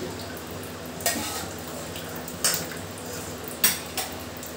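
A spoon stirs vegetarian potato curry (aloor dom) in a pot, with a soft sizzle underneath and four distinct scraping clanks against the metal, spaced irregularly.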